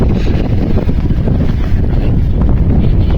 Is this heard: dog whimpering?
no